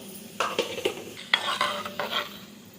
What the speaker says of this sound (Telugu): శనగపప్పు, జీలకర్ర, ఆవాలు ఇవన్నీ కొంచెం ఎర్రగా అయ్యే వరకు ఉంచుకోవాలి.